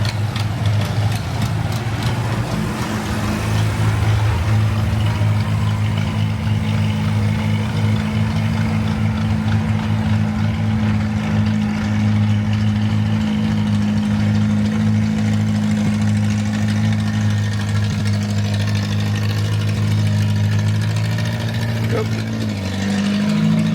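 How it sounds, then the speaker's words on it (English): Old tractor engines chug and run steadily nearby at a farm park tractor parade, a loud, continuous low-pitched throb with a faint rhythmic knock throughout. "You hear the most unusual sounding engines here."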